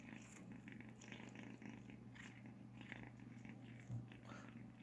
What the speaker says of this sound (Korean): 먹으면서도 골골대.